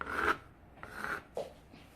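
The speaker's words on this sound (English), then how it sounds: "let's just scrape off the extra foam and see how it looks" Shaving cream foam is scraped off paper in marbling art, three short rasping scrapes spaced about half a second apart, close and fairly quiet.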